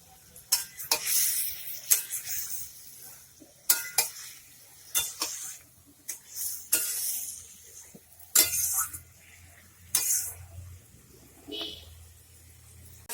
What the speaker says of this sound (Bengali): ভাজা ভাজা না হলে জিরাটা গন্ধ হয় তো ওই জন্য ভাজা ভাজা করছি